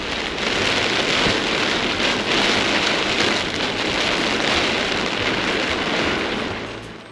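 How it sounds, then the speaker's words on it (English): Heavy rain pours down steadily in Davenport, a loud, dense, continuous hiss of drops on surfaces that holds constant for several seconds before easing slightly at the end, with no voices. "how is it that people could even live in a covered wagon when it rained like this"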